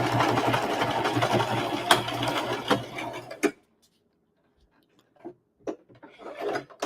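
A sewing machine stitches a faux leather wallet along the line in a fast, steady mechanical run for about three and a half seconds, then stops abruptly, leaving quiet broken by a few soft handling clicks and rustles.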